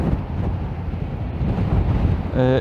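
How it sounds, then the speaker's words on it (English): Heavy wind buffeting roars across the microphone while riding a 2020 Yamaha Tracer 900 GT motorcycle, a continuous loud rumble with a brief engine tone rising at the end. "With the exception of the wind buffeting"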